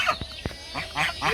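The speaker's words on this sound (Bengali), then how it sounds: "রাজহাঁস" Village geese honk in short nasal bursts, two sharp calls early followed by a run of softer honks, close by, with people talking in the background.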